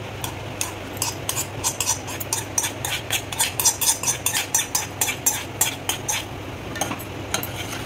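Flattened rice (poha) being stirred in a pan for atukula payasam: a steady run of soft scraping strokes, close and moderately loud, rising to a regular rhythm midway and easing near the end.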